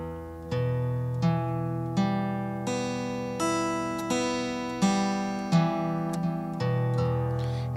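A guitar chord picked note by note with a pick, about a dozen clear, ringing plucks in a steady, even rhythm, each note sustaining into the next, close and alone with no talking.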